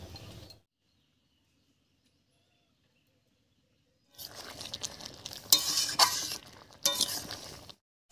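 Mixed vegetables for a Bengali veg dal stirred and cooking in a pan, with bursts of scraping, clinking and soft sizzling after a long quiet stretch, close and moderately loud.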